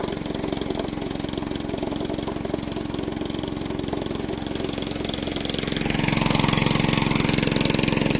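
A farm engine runs at medium revs while driving after ploughing, with a steady mid-pitched drone. It grows slightly louder and fuller toward the end, and no voices are heard.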